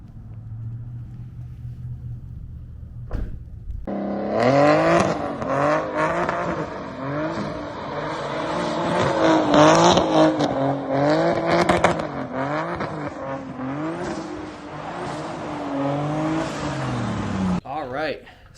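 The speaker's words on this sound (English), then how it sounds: "super happy with how the exhaust came out on the E36. Thing sounds amazing." A BMW E36 coupe engine revs repeatedly through a loud, throaty new exhaust at first start-up, rising and falling in pitch close by, with a brief voice at the start.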